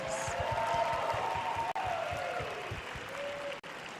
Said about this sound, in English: Let's give all the contestants another big round of applause.